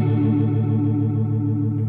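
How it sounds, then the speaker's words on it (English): Guitar through a Boss Katana MkII amp with a rotary speaker effect rings out as a sustained chord, its tone swirling and wavering steadily, loud and alone. "Now, rotary, it produces the effect like the sound of a rotary speaker."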